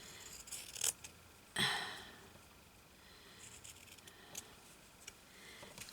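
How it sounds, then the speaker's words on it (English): Scissors snip lace off a paper doily envelope in a few quiet, close cuts, with a couple of sharper clicks and soft paper rustles between them. "I'll cut the lace off the bottom."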